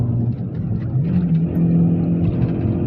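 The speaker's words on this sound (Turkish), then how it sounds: "Şu an rampa yukarı 3'te çıkıyorum arkadaşlar." A car engine drones steadily as it climbs an icy uphill road in third gear, with a low, even hum that stays loud and close throughout and no voices.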